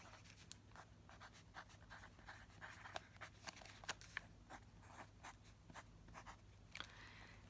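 Soft scratching of a pen writing out a library card number at a checkout desk, close and quiet with a steady run of small strokes and light scrapes.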